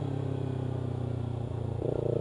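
Kawasaki Ninja 300 motorcycle engine braking while riding, a steady buzzing engine drone that shifts pitch near the end, close and continuous with no talk.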